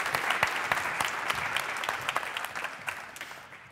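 An audience at a CBC/Radio-Canada annual public meeting gives a round of applause as the board chair walks up, a steady patter of many hands with crisp individual claps that slowly thins out.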